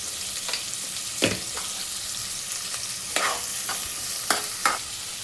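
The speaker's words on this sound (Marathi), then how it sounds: "कांदा तळताना पण ना त्यात थोडं मीठ टाका तो पटकन तळला जाईल" Soft, steady sizzling of large onions frying with a little salt in a pan, with a few sharp scraping stirs of a utensil scattered throughout.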